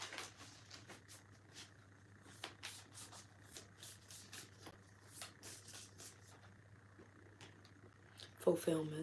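Sacred Destiny reading cards shuffled by hand in a soft, steady rustling run of riffles and slides, fairly quiet with a few sharper flicks, a low constant hum beneath and a brief clatter near the end.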